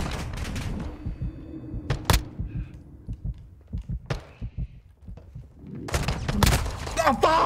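Shots ring out in Warzone 2.0, with bursts of rapid gunfire and separate thumping single shots, loud and close, while players talk over the action.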